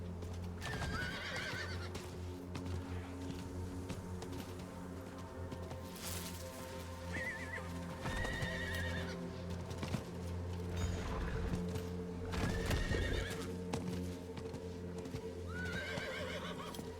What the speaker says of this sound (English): the horse almost kicked me off there